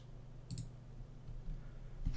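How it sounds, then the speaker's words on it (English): A computer mouse clicks a few times, sharp quiet clicks spaced apart over low background hum. "Sorry for clicking around right there."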